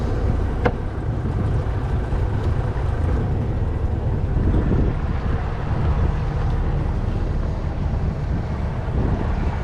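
A sailboat's engine revving up under throttle on open water, a steady low droning rumble mixed with heavy wind buffeting on the microphone and water noise, continuous and close, with no talking.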